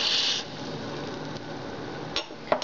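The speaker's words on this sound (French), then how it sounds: "je vais ajouter un petit peu de huile, huile de tournesol. Et je vais ajouter les sarrasins." Dry buckwheat poured into sunflower oil in a pan, a continuous close gritty rustle with a few light scrapes and taps near the end.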